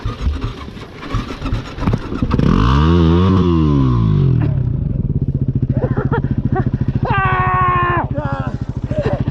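A motorcycle engine revs loudly, rising and falling in pitch, then settles into a rapid throbbing idle with a few short blips of throttle; voices talk briefly.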